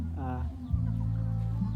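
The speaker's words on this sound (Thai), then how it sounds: "อันนี้ก็แม่นไก่ของชนเผ่าเฮาเด้อที่หมู่บ้าน" Village chickens of a Thai hill tribe clucking nearby, with a harmonic rooster-like call at the start and a lower vocal hum running beneath.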